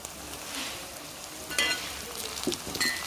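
Curry leaves sizzling in hot oil with garlic, green chilli and ginger for a homemade fish pickle, a close steady sizzle broken by a few sharp crackles and stirring clinks.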